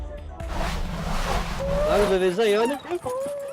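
Nordic sled dogs kept by a musher, out on snowless ground in the Loire, whine and whimper in rising, wavering cries with a few yips over a busy, noisy background.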